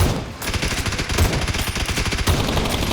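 Rapid automatic gunfire in the PUBG Battlegrounds video game, a dense, loud, continuous stream of shots throughout, with a brief dip near the start and no talk over it.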